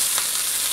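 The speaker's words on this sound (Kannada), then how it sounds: "ಈಗ ಪಿಟ್ಲೆ ಒಗ್ಗರಣೆ ಹಾಕ್ತೀನಿ." Curry leaves, mustard seeds and asafoetida hit a spoonful of hot oil for a tempering, giving a brief, steady, bright sizzling hiss with no talk.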